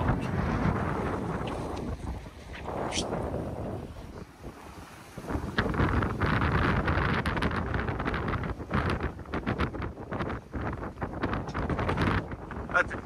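Sailboat moving at nearly 7 knots under genoa alone, with rushing water, hull wash and gusty wind buffeting the microphone, loud and close throughout, with a voice speaking briefly over it.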